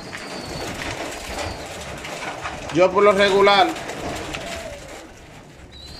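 Diamond doves, a small and delicate dove species, give soft low coos, with a clearer burst of calls in the middle. Someone speaks over them in the background.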